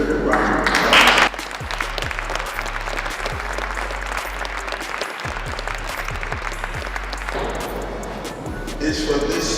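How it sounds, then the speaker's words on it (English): An audience at a school district board of education meeting applauds, a loud, sustained wash of clapping that swells after a brief opening and carries on with low rumbling room noise and a few voices underneath. "I think we deserve a round of applause."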